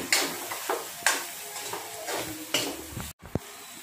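Parwal and potato sabzi being stirred in a pan over a slow flame, a series of scraping, sizzling strokes at an irregular pace, ending with a short clink.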